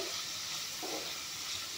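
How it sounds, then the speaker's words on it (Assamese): Paneer pieces frying in a pan for a vegetarian paneer, cashew and tomato curry, giving a steady, close hiss of oil that runs alone without a break. "এতিয়া পনীৰখিনি অলপমান ভাজি ল'ম।"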